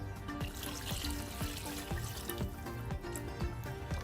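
Water pours steadily into a cooking pot of paya, a continuous splashing trickle over a busy background of clinks and kitchen noise.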